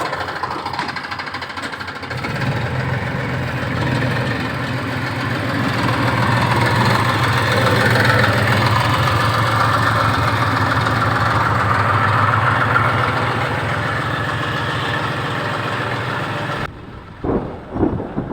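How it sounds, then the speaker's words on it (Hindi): A heavy engine idles with a steady low rumble for a long stretch, then cuts off near the end, leaving a few faint knocks. "अब मैं ट्रैक्टर चलाने जा रही हूँ।"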